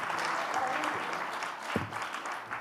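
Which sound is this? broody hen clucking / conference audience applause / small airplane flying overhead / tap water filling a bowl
conference audience applause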